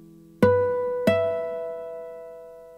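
Two plucked nylon-string guitar notes from a Yamaha PSR-E473 keyboard with flageolet articulation, ringing as bright harmonic tones that sustain and slowly fade, clear and close with no talking.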